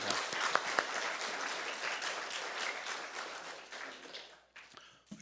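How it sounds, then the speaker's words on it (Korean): A church congregation gives sustained applause, a dense and fairly soft wash of many hands clapping that fades out near the end. "사랑과 축복의 박수 부탁드리겠습니다."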